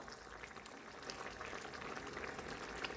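Monkfish curry comes to a boil in a pot, giving a steady, close bubbling and burbling hiss with small popping bursts throughout and no talking.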